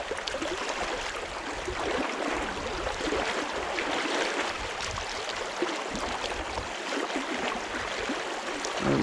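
Fast-flowing water of the First Fork Sinnemahoning river in Potter County, a dense, steady rushing and gurgling wash heard close by, continuous without pauses or speech.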